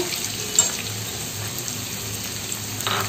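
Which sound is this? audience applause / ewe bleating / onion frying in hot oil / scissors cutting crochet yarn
onion frying in hot oil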